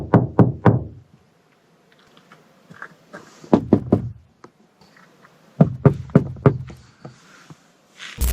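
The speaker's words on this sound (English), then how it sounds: "Someone began knocking against the panels, tapping different sections as if checking for a response" Knocking and tapping on the panels of a van out in the wilderness, coming in three separate bursts of quick, hollow raps with quiet gaps between them and a faint rustle in the background.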